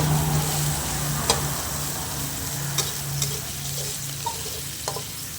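Napa cabbage with pork and tofu is stir-fried in a pan, giving a constant close sizzle broken by a few sharp scrapes and clinks as the food is tossed.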